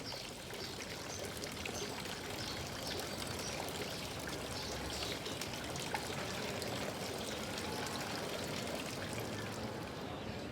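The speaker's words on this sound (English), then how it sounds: "just like the water from the fountain" Water from a fountain in Andalusia pouring and splashing in a steady, continuous stream, close and fairly even throughout with a soft trickling texture.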